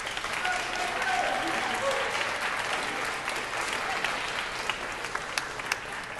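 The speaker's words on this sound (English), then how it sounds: "give yourselves a round of applause" Applause from the crowd at a journalism broadcast awards ceremony, a sustained wash of clapping with a faint voice early on and a few louder claps near the end.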